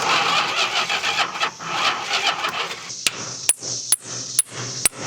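A 1971 Plymouth Roadrunner, unused for 35 years, cranks and sputters as it tries to start. A rough engine roar is followed by several sharp, evenly spaced cranking clicks with quieter whirring between them, loud and close.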